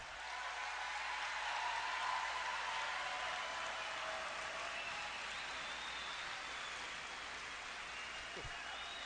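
Crowd at a Donald Trump campaign rally in Birch Run, Michigan applauding and cheering in a steady, sustained roar that holds evenly throughout, heard from a distance within a large venue.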